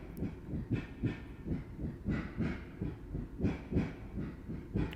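A Class 73 train running along the line in a Roblox railway game, giving a steady, evenly spaced clatter of wheels over rail joints, fairly quiet and with no voices.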